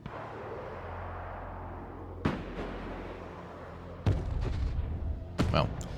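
Missile and artillery strikes hit the ground in the modern warfare strategy game Broken Arrow: three sharp, loud blasts spaced a couple of seconds apart over a constant low battlefield rumble.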